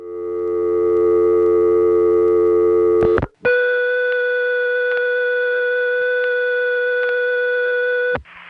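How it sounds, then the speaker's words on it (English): Permanent signal tone from a crossbar No. 5 telephone office, a loud steady multi-tone buzz that breaks after three seconds into a higher sustained tone with faint periodic clicks until it cuts off. "imagine that there is an underground cable which has become completely flooded and all the lines are shorted out. They all get a dial tone"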